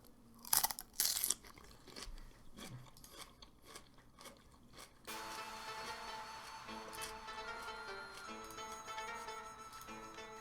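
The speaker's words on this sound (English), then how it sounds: "Cucumber ASMR." Crisp crunches of a bite into a raw cucumber, a few sharp close bursts early on, then softer chewing with clicks beneath a steady layer of game music.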